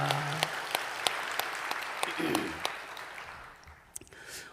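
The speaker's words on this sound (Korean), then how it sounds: "우리 성령님께 영광의 박수를 올려드리겠습니다." A church congregation applauding, a sustained wash of many hands clapping at moderate distance, with some sharper individual claps standing out and the applause fading toward the end.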